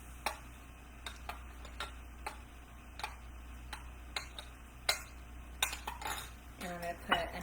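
A spoon stirring homemade sugar-free coffee creamer, tapping and clinking against the container in a steady rhythm of light, close ticks, ending with a few louder scrapes and clanks.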